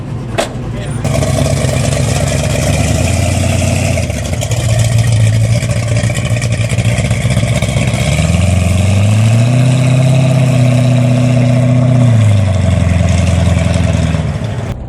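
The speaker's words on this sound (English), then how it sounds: "We got Brad's S10 running a lot better. Picked up 4 or 5 mile an hour in about almost half a second." A Chevrolet S10 drag race car sits running at I29 Dragway, its engine loud and close with a rough idle that swells into a couple of drawn-out revs and settles back down, while voices talk over it.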